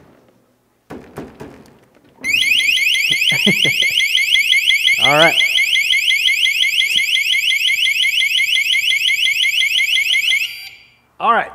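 A Piaggio Vespa scooter's factory anti-theft alarm blares loud and piercing, continuously for about eight seconds after a few thumps, with a brief voice cutting in underneath.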